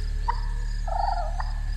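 An owl in a video game calls twice, short hooting notes standing out over a steady low game drone and hum.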